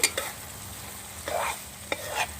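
Meat filling for fried puli pitha sizzles steadily in a pan while a spatula scrapes and stirs it in a few distinct strokes, close and moderately quiet.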